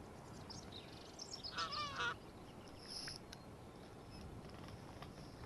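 Geese honk in the hunting video game Hunting Sim 2, a few faint calls over a constant soft outdoor hiss, with one brief louder cluster early on.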